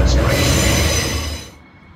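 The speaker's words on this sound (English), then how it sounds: "This is a Cleveland train running express from Morningside to Manly." A Brisbane Cleveland-line commuter train runs express between Morningside and Manly with a loud, close rush of wheels on track and a high rail squeal that fades out near the end.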